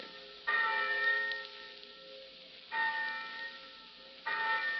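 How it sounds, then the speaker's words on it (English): A college class bell rings in three separate strikes, each a loud, clear metallic clang that decays slowly, with a faint hum between strikes and no voices. "thousands of eager college freshmen will hear a bell like this, calling them to their first college class"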